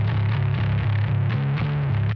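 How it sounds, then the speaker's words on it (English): A bass guitar played through an Oracle Sound bone stager distortion pedal grinds out a thick, heavily distorted riff, loud and continuous with a steady rhythmic pulse. "this is classed as a sort of a preamp pedal, if you will, the bass distortion pedal"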